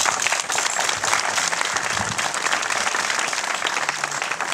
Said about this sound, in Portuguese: muito obrigada então pelos vossos aplausos